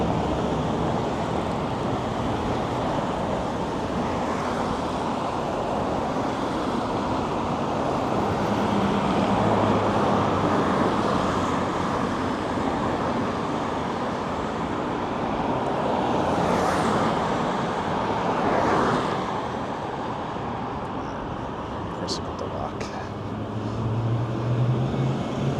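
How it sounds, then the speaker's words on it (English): An airplane approaching at LAX airport outdoors, a broad roar that swells and fades under steady traffic and wind noise, moderately loud and fairly distant. "Got a plane coming toward us here."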